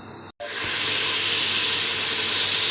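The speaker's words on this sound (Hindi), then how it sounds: "अभी हम इनको भी अच्छी तरह भूनते हैं" Potatoes and spinach (aloo palak) fry in a pan with a loud, steady sizzling hiss that follows a brief drop to silence at the start.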